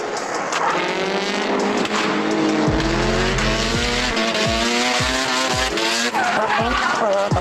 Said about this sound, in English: Kurt, how important is the sound of a car for drifting?